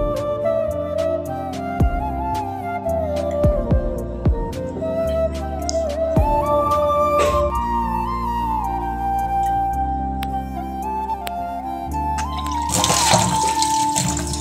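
Water runs steadily from a tap for the whole stretch while dried fish is washed at a sink, with scattered clinks and handling noises and a louder splashing burst near the end.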